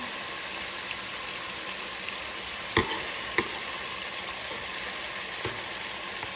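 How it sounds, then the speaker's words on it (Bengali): Tandoori chicken pieces frying in a pan, a loud continuous sizzle with a few sharp knocks as the pieces are turned over, no talking. "এভাবে একটু চিকেনগুলো উল্টায় পাল্টায় দিব প্রতিটা চিকেন"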